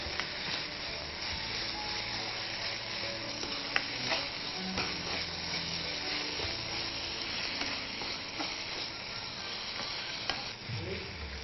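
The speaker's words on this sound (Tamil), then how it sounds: "நம்ம சிக்கன் வந்து நல்லா சாட்டே ஆகிடுச்சு." Chicken sautés in a pan for keema idly, a loud continuous sizzle with scraping stirs and occasional clicks of a utensil against the pan, no voices.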